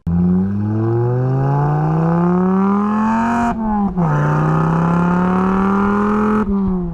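A 2.5-liter five-cylinder car engine with exhaust revs up in a long rising pull with a throaty note, drops briefly, then climbs again before cutting off, loud and close.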